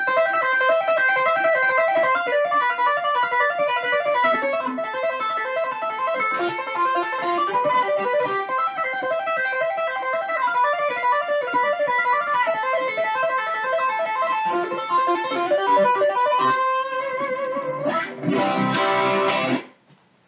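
Fast, evenly repeating tapped guitar arpeggio notes in C ring out continuously in a flowing pattern, ending with a brief buzzy strummed chord before cutting off.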